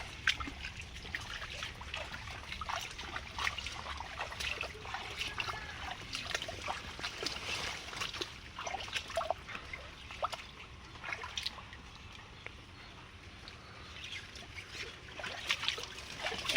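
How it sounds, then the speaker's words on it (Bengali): Water from a running pump gushes through a pipe after heavy rain has flooded a pond and yard, a steady rushing trickle with splashy texture, continuous and moderately near. "এই যে পাম্পটা চালিয়েছে এই যে জল যাচ্ছে পাইপের ভেতর দিয়ে"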